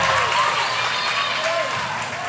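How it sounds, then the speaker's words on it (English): Loud, vocal crowd roaring in a high school gym during a girls basketball game, a continuous wash of cheering and clapping with voices talking over it. "you can hear the crowd tonight"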